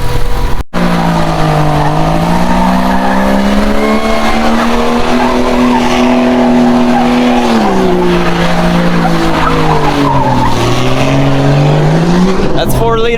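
A 4x4 Camaro doing a burnout roars loudly and continuously at high revs while its tires squeal and skid, with the engine pitch rising and falling throughout; a brief dropout occurs near the start.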